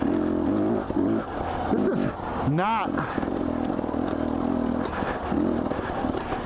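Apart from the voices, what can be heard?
Husky TE250i trail motorcycle lugging uphill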